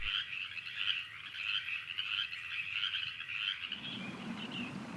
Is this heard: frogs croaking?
yes